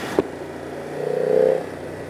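A BMW F 900 R motorcycle engine idles and blips at low revs, a short sharp knock followed by a rising, steady drone that swells and then fades back to a low rumble, close by and alone.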